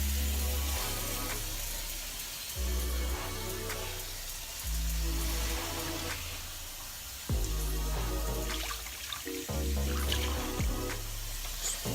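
Tap water runs into a measuring cup in a home kitchen, a steady near rushing stream that starts and stops in several bursts, with no talk.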